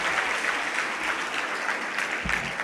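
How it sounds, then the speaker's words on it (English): Audience applause fills a hall at a National Youth Day celebration in India, a steady dense clapping from a large crowd sustained evenly throughout without a break. "Clap once again and place it up."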